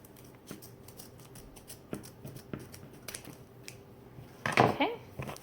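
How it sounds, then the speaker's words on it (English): Scissors snip ribbon while fabric is gathered into a bow, giving a few faint clicks and then a louder, crisp cutting crunch close by, with light handling sounds around it. "I'm going to cut my ribbon right there while holding all my fabric"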